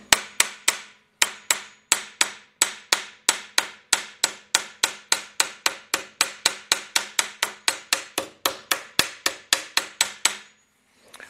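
Roughly forty sharp hammer blows in a steady, even rhythm ring out close and loud as sheet metal is shrunk on a Willys CJ2A body, with a short pause after the first few strikes and no talking.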